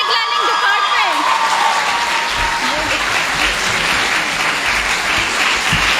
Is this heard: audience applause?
yes